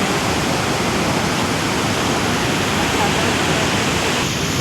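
Water overflows at Nizamsagar dam on the Manjira river, a loud and constant rushing roar close by that fills the whole stretch without a break.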